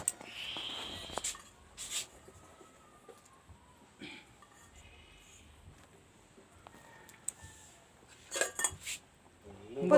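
A metal lid set onto a pot of snail and potato masala curry, with scattered clinks and scrapes of cutlery and cookware, quiet and close, ending in a cluster of louder clatters.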